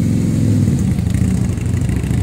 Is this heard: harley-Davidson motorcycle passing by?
yes